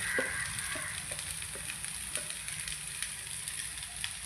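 Cooked rice gets stirred into tomato masala frying in a pan, giving a soft continuous sizzle broken by light, regular scraping strokes, close and quiet.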